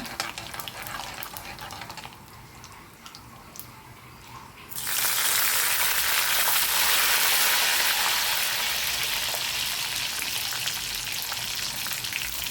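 Curry leaves hit hot oil with mustard seeds and cumin for a gongura prawn curry. A faint crackle gives way to a sudden loud, steady hissing sizzle that runs for several seconds, with no talking.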